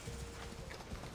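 A horse gallops in Assassin's Creed Odyssey, with quick rhythmic hoofbeats pounding steadily through a brief moment at moderate volume.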